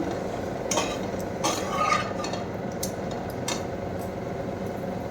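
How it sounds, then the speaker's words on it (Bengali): Cumin powder being stirred into a frying masala in a pan: a low, continuous sizzle with spoon scrapes and a couple of brighter metallic clinks, close and moderate, no talking. "জিরের গুঁড়ো নেড়ে নিই"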